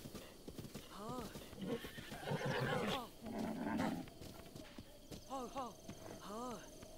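A horse in Zelda: Breath of the Wild whinnies several times among rhythmic clip-clopping hooves and ruffles of movement. Someone speaks quietly under the game sounds.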